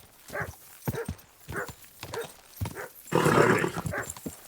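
A dog in the video game Kingdom Come: Deliverance 2 moves along with rhythmic, clip-clopping footfalls, a steady series of soft thuds, followed by a louder burst of noisy movement near the end.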